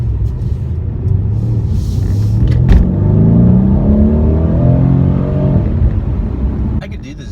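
A Mercedes C63 AMG engine growls and revs up loudly nearby, rising into a deep throaty roar before settling, with a voice talking over part of it.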